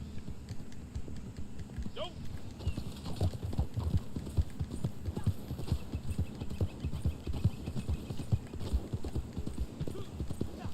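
Steady clip-clop of horse hooves trotting at a regular rhythm in the video game Red Dead Online, with a brief whinny early on, over a low ambient hum.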